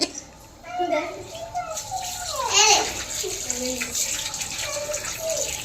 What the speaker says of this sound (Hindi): सारी पैर धोई, मुन्नी धोई।